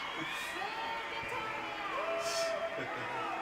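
Crowd booing in the video game Life is Strange, a sustained murmuring jeer from a large in-game audience that swells and fades across the moment, with game music and a voice tone running underneath.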